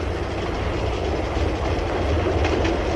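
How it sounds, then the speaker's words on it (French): A Paris metro train of the late 1950s runs along the track with a loud, continuous rumbling roar and rhythmic clickety-clack of wheels, heard close and steady throughout. "Ces trains, dont chacun peut transporter presque autant de voyageurs qu'un rapide, s'arrêtent à des stations très rapprochées."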